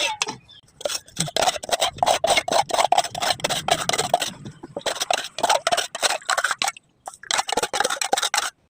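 Someone scrapes blackened residue off a cooking pot with a hand scraper, giving a rapid run of close, rasping strokes with brief pauses between bursts.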